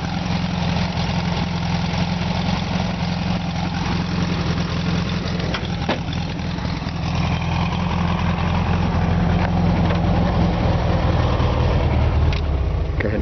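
A 1973 VW Beetle Convertible engine idles steadily close by, a low, even rumble with a constant mechanical hum running unbroken throughout, with no voices over it.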